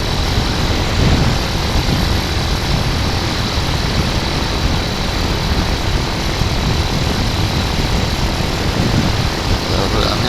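A Hawk 250 motorcycle rides in fifth gear, its engine droning loud and steady beneath heavy wind roar throughout, with a voice partly audible under the noise.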